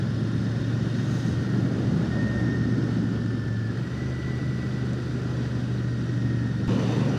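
A Royal Enfield-style 650 Shotgun motorcycle on a road ride, its engine giving a steady low burble from twin 2-into-2 exhausts, continuous and fairly loud under rushing wind, with no voices.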